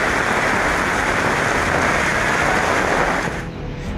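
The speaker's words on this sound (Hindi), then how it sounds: "पूरे राज्य में पिछले 24 घंटे से लगातार बारिश हो रही है" Heavy rain falls steadily during Cyclone Yaas in West Bengal, a loud, dense hiss that holds constant for most of the stretch before easing slightly near the end.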